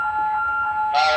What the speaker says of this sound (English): Pen store MCP fire alarm active.